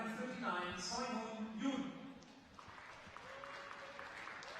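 Crowd applause at a Bonn 2019 men's singles class 1 and 2 championship as a player walks out, a broad steady wash of clapping at moderate distance with a voice speaking over it early on.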